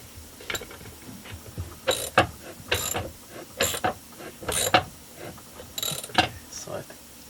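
A mechanism is cranked down during assembly of a 372, giving a series of close, irregular clicking and ratcheting strokes, each a quick metallic burst with short gaps between them.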